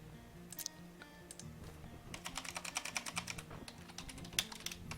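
Rapid clicking of a computer keyboard as a spell is typed into the game Magicmaker, with quick, uneven bursts of keystrokes growing denser midway and continuing close up without talk.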